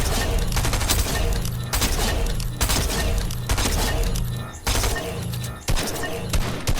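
Rapid bursts of gunfire ring out in a Fortnite aim practice session, loud, dense volleys with brief gaps between strings of shots.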